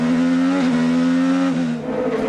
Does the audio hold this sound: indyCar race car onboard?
yes